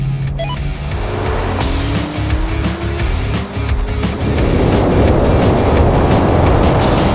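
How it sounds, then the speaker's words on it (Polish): A Mercedes A-Class and a Porsche 911 accelerate hard side by side in a drag race from a rolling start, engines rising in pitch and swelling into a loud, dense roar with wind and road noise. "No to teraz wyścig z rolki."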